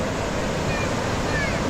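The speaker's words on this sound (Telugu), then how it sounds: "ఇది అతిపెద్ద water fall, widest water fall ఇదే." Chitrakote waterfall in Bastar district, the widest in the area, gives a continuous, dense roar of rushing water, loud and steady throughout with no pauses.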